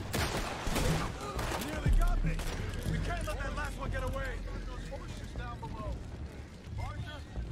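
Repeated gunfire rattles through a Red Dead Redemption 2 shootout, a string of sharp shots and bursts at moderate level mixed with game noise, while people talk over it.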